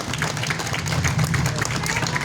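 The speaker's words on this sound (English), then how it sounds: "Can we give them a quick round of applause?" A community choir receives a round of applause from a crowd, dense clapping and cheering noise steady and loud throughout, with a low hum underneath.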